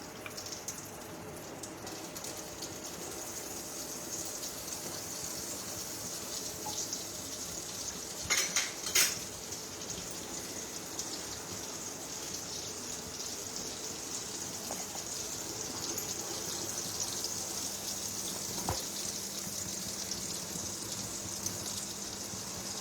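Butter melts in a hot cooking pan with a faint, steady sizzle that runs throughout, broken by a few light clinks of utensils against the pan partway through.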